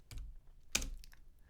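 A few quick keystrokes on a computer keyboard while code is being typed, soft and close, two clustered bursts of clicks with a short gap between them.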